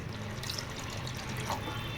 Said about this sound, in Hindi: अब इसमें हम पानी डालेंगे।